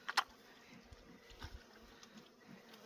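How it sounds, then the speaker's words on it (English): Honey bees buzz around a hive opened on a cold 4 °C day, a soft steady drone with a couple of sharp close passes near the start and faint scattered knocks. "You're starting to collect bees on your jacket."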